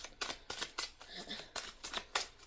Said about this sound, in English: it's telling me to shuffle again